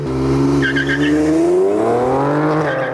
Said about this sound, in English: The engine revs to build boost, and as soon as you let the paddle go